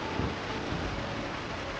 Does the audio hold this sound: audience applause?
no